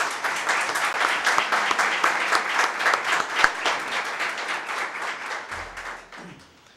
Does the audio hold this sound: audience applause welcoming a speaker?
yes